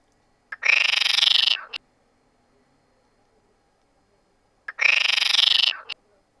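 Two separate bursts of loud, raspy frog croaking, each about a second long, separated by several seconds of near silence.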